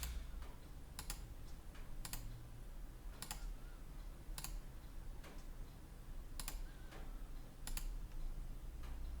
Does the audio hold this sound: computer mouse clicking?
yes